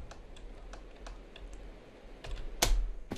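Computer keyboard typing during a Minecraft session, with sparse, faint, close key clicks in an irregular rhythm and one sharper, louder knock near the end.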